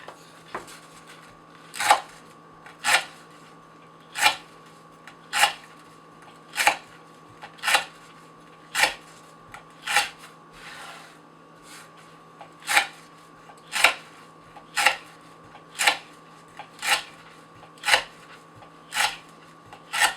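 An S110V steel custom knife slices through rope in a sharpness test, giving a steady series of about sixteen short, crisp cutting rasps spaced roughly every second, close and clear with no talk over them.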